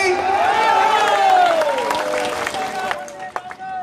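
Crowd at a political rally breaks into applause and cheering, a dense, loud wash of clapping mixed with voices and shouts for a few seconds, thinning slightly toward the end.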